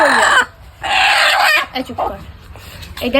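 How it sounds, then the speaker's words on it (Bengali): Loud chicken squawks and clucks in agitated bursts as the chicken is caught, close by, with short pauses between calls. "তুমি মুরগি ধরছো কেন হ্যাঁ?"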